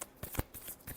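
Tarot cards shuffled by hand in a few quick riffling bursts, close and fairly crisp, with no talking over them.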